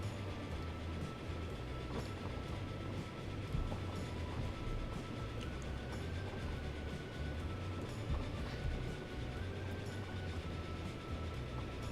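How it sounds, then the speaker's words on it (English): A steam train runs in the railway strategy game Transport Fever, a steady low rumble with faint rhythmic clatter, continuous and somewhat distant with no talk. "Look at that steam engine chewing up the countryside."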